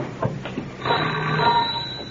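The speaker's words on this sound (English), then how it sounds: "He'll be ringing the bell any moment now." A doorbell rings in a vintage radio comedy sketch, a sustained electric bell tone lasting over a second after a few soft knocks or steps, moderately loud and close.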